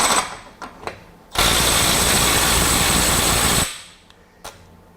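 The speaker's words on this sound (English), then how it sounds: "a right angle impact, is going to allow it to hammer on that nut" A Milwaukee M12 FUEL right angle impact wrench hammers on a nut in one loud, sustained burst of about two seconds, bracketed by brief trigger blips and short motor whirs before and after.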